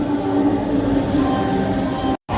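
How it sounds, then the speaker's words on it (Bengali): A train arriving at a station at night rumbles loudly and steadily, a deep continuous roar with a low hum, ending in a sudden brief cut. "মনে হচ্ছে চলে আসছে ট্রেন"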